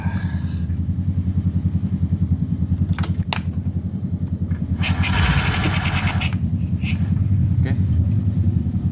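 A Yamaha Mio Gear scooter engine, just rebuilt after running with dry oil, idles close by in a steady low throbbing putter. A brief word is spoken at the start, with a few metallic clicks and a louder rev-like burst in the middle.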